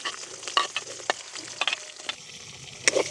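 Onions and green chilies fry in a pan for a raw papaya dish, a close, steady sizzle broken by quick scraping stirs and clinks of a spoon, with no talking.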